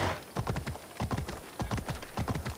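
Horse hooves clip-clop in a steady rhythm in Assassin's Creed Odyssey, a run of sharp paired hoofbeats at close range with no talk over them.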